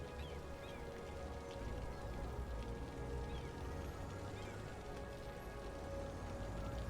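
Steady rain in the Cities Skylines city-building game, a soft continuous hiss of falling drops spread evenly through the scene, faint and unbroken with no voices.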